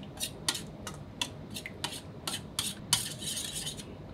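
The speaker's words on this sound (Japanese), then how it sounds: "よく混ぜておきましょう。" A spoon stirs a seasoning mix of honey, salt and pepper in a bowl, making a quick series of bright, close metallic clinks against the side in an uneven rhythm.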